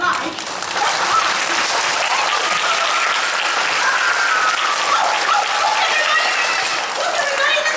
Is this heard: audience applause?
yes